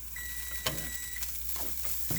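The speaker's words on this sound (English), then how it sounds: "going to stir it up one more time" Food frying in a pan is stirred, giving a soft steady sizzle broken by a few scraping strokes of the utensil, close and quiet with no talk.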